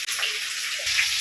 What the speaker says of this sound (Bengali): মাছগুলো ধুয়ে পরিষ্কার করে।